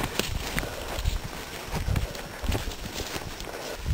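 Escaped cows walk along, their hooves clopping in an irregular, close, steady patter over a constant outdoor background rush, with no voices heard.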